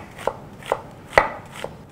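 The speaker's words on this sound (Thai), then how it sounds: "ซอยกะหล่ำปลีเป็นเส้นบาง ๆ" A knife chops vegetables such as cabbage, papaya, carrot and onion on a board, giving four crisp, evenly spaced strokes close by with no talking.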